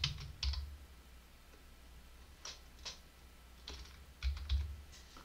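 Keys tapped on a computer keyboard while entering a login code, in short bursts of clicks separated by pauses, close and fairly quiet.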